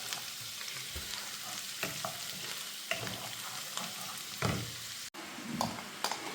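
Ginger and garlic fry in hot oil for a tempering, with steady close sizzling and repeated scrapes and knocks of stirring throughout, no voices.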